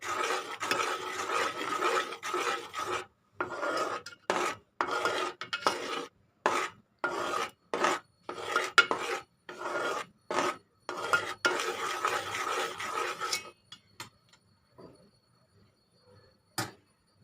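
A spoon stirs ghee into a sticky sesame and jaggery laddu mixture in a pan, with repeated rhythmic scraping and rasping strokes, close and steady, that slow to a few scattered scrapes before stopping.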